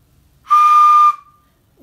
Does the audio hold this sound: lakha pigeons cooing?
no